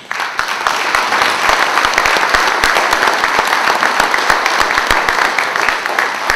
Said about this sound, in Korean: 우리 존경과 사랑의 박수를 힘차게 보내주십니다